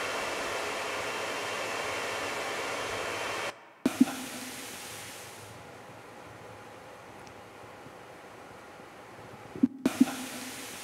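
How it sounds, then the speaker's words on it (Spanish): Constant loud whooshing hum of many cooling fans and Bitcoin mining machines running, broken by brief pauses and a couple of faint clicks. "este es el sonido de la energía que consume la minería de Bitcoin"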